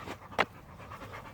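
A dog pants softly and rapidly near a 1988 Jaguar XJS V12, with quiet quick breaths through the short stretch and one brief louder huff in the middle.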